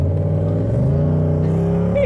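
LS-swapped Mercedes car driven on an autocross course, its V8 engine droning loudly and steadily from inside the cabin, pitch holding fairly level with slight rises, no talking.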